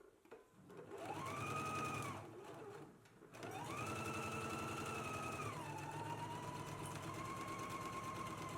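Home sewing machine stitching a garment seam, a loud close motor whir that runs, slows briefly, then rises to a long steady stitching run with a pitch drop near the end.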